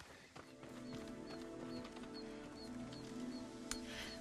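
Horse hooves in the video game Ghost of Tsushima, faint rhythmic clip-clop of a trotting horse over a quiet ambient background with soft chirps, no talking.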